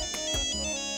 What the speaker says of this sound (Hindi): मिसेस मालती का फोन है